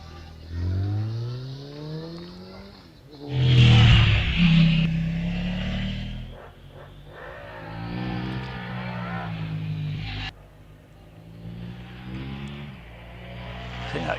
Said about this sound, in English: I think that could be Pete Ford out there now on the Hill Dragon 600 supercharged.